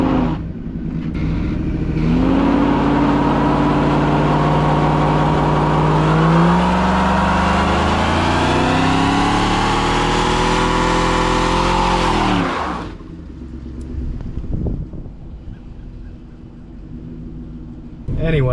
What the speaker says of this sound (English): I had to burn off that one little, there's a snow tire on this car